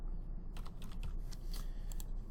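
Fingers typing a short title on a computer keyboard, a quick run of light, close key clicks at low volume following a brief pause.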